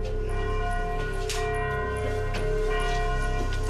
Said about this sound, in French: quand enfin la pluie s'arrête, c'est le grand retour des cloches.